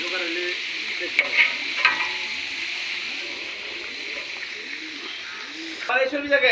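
Sliced onions frying in hot oil for beresta, a steady bright sizzle with occasional stirring scrapes, and a voice speaking briefly near the end.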